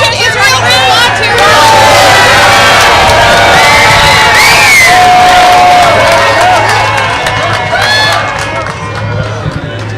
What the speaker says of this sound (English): a very loud crowd here with a lot of people across, right next door, cheering him on